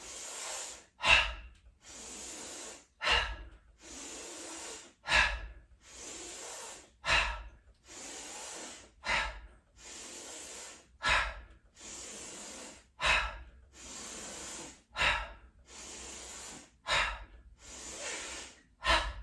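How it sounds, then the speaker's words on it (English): Deep rhythmic breathing during a yoga exercise, about a dozen slow cycles of loud inhales and forceful exhales with hissing, sighing breaths, close and alone. "So inhale. Inhale."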